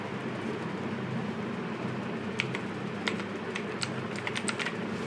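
A short run of quick key taps on a computer keyboard while a web address is entered, faint clicks over a steady broadband background noise, with no voice.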